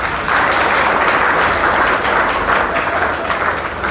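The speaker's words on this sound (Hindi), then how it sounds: "एक बार त्रिशरण तालियों से स्वागत करेंगे" An audience at a Samta Sainik Dal Sankalp Divas gathering welcomes guests with dense, continuous applause from many hands, loud and close for several seconds.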